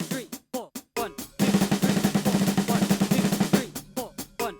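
A drum fill from a song is played on a snare drum at 140 bpm: sparse sharp hits, then a dense rapid roll of strokes, then more spaced hits, all close and loud.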